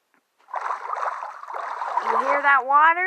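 Water in Minecraft splashes and sloshes in a steady wash for a few seconds, with a rising, wavering tone swelling toward the end.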